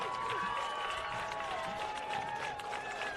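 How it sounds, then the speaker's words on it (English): Home fans at a high school football game cheer and applaud from the stands, a steady wash of distant crowd noise with some tonal whistles woven through it. "And the Lancer faithful, you can hear them cheering in the background"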